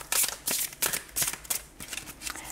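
Tarot cards shuffled for a reading, close crisp riffling bursts repeating in quick rhythm, loud and alone without talking.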